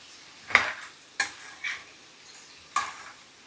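Spoon or spatula stirs crab curry (pottu nandu, small crabs) frying in a pan, giving a few separate scraping stirs about a second apart over a soft sizzle, close by with no talking.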